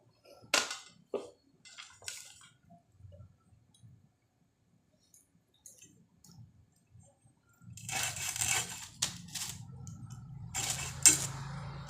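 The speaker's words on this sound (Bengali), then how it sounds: "এইভাবে চিংড়ি মাছ কাটি আমরা।" Prawns are cut by hand in a home kitchen: scattered knife clicks and light taps, then a denser stretch of scraping and clinking handling noise near the end.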